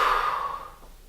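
A single strong exhale during an ab exercise, loud and close at first, then fading over about a second, with no talking.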